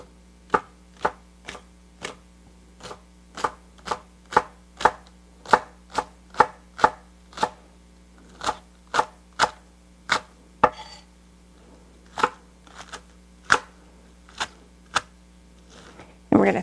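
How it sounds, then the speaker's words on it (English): Green onions chopped on a cutting board beside a pan of hot bacon grease, about thirty sharp knife strikes in an uneven quick rhythm, close and clear with a low steady hum behind. "we're going to chop up these green onions real quick"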